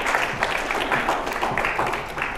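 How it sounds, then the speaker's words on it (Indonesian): Audience applauding a guest speaker at an Indonesian university talk show, a dense, steady wash of clapping filling the room throughout without a break. "Tepuk tangan sekali lagi untuk beliau."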